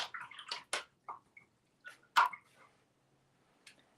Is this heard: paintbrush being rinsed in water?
yes